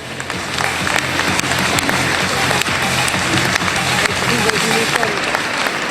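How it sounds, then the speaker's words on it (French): Audience at an award ceremony for an international pastry trophy at a chocolate show, clapping loudly and steadily for several seconds, a dense close crowd applause with faint voices underneath. "je vous demande de l'applaudir très fort"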